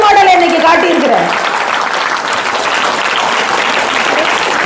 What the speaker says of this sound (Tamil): ஸோ நீங்களே பெருசாக கைத்தட்டிக்கோங்க